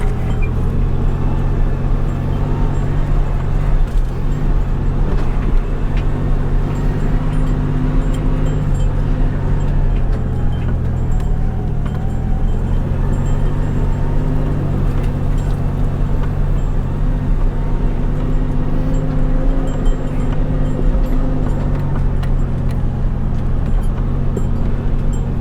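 Off-road truck climbs a trail at Pine Valley OHV, its engine giving a steady low rumble and drone heard from inside the cab, continuous and fairly loud with no talk.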